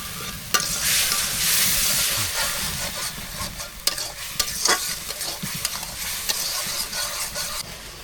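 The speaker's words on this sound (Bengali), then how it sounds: "মশলা কষানো হয়ে গেছে" Spices with salt, ginger-garlic paste, chili and turmeric fry in a pan on a village clay stove for a shrimp curry, with a constant sizzle broken by repeated scraping stirs and sharp clicks of the spoon.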